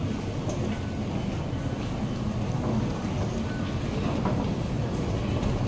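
A Bangkok MRT metro train rumbles along with a steady low roar and faint rail clatter, heard from inside the carriage with no talking.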